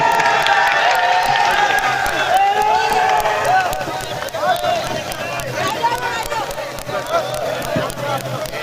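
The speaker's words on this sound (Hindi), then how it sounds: "जोरदार तालियों से इस्तकबाल कीजिए डॉक्टर साहब का" An audience at a mushaira poetry event claps loudly and cheers to welcome a poet. The applause is dense and fills the hall, while an announcer's voice rises over the noise.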